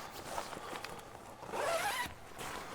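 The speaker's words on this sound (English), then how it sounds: "Do the zippers." A tent zipper on poly-cotton fabric being pulled open in a couple of quick rasping strokes, close up, the second pull longer and louder.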